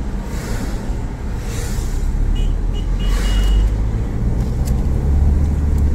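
A car drives along a mountain road on the route from Goa to Pune, giving a loud, steady rumble of engine and road noise with a constant low roar throughout.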